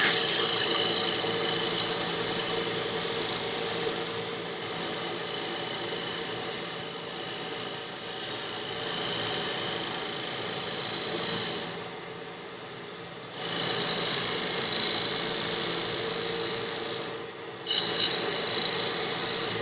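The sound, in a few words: negative rake scraper cleaning up wood on a lathe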